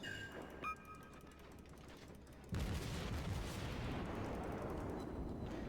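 Guns firing from a Kuma light cruiser in the World of Warships video game, a heavy rumbling volley that erupts after a quieter stretch with a few faint tones and then rolls on, loud and sustained.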